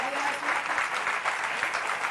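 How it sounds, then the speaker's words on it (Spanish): A studio audience at a healthy-cooking show breaks into brief, dense applause for two guest cooks, a steady wash of clapping with no voices over it. "un aplauso para Emiliano y Juani"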